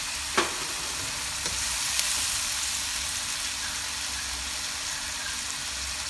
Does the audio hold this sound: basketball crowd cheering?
no